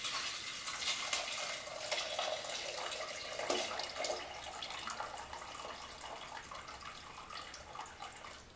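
Hot water pours over strained bone broth plant material in a kitchen, giving a steady splashing, running-water sound that continues without a break, fairly close and moderately loud, with no talking.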